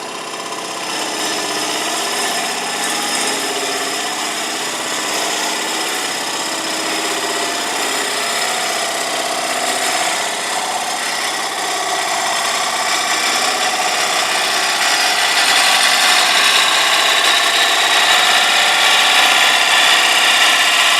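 A wood lathe spins a coarse wooden bowl as a tool takes a slow finishing cut, making a continuous whirring hum with steady scraping texture that stays even and close throughout.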